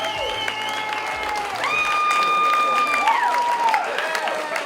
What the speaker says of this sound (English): a big round of applause for the new Mr.